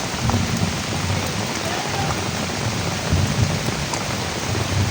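Heavy rain pours down in a dense, continuous roar of drops hitting surfaces, loud and close with no pauses.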